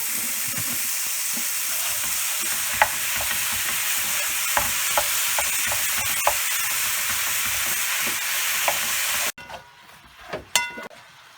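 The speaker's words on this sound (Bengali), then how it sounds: "অলরেডি প্যানটা 2 মিনিট ধরে হট হয়েছে। এখন এখানে মিন্টটা দেওয়া হলো।" Minced meat sizzles loudly and steadily in a hot pan, with occasional clinks of stirring, before the sizzle suddenly drops away near the end.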